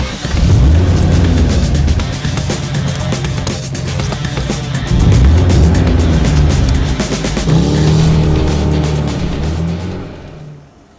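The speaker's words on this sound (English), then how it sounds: "let's go for a drive, let's check out this gorgeous 1965 Valiant convertible" A 1965 Plymouth Valiant convertible on the move, its engine a loud, close, steady drone that swells and eases as it accelerates, with no voices and a quick fade at the end.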